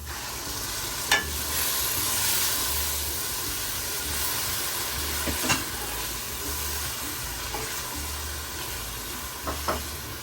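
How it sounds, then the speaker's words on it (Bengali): Tomato puree going into a pan of frying chicken masala for a restaurant-style chicken bharta, giving a steady moderate sizzle with a few sharp spoon scrapes spaced through it, close by, with no talking. "এখন দিয়ে দিচ্ছে পেস্ট করে রাখা টমেটো পিউরি"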